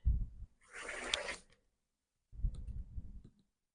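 A rotary cutter slices fabric strips along a quilting ruler in one close, gritty rolling cut lasting about a second, with a few soft thumps and handling noises before and after.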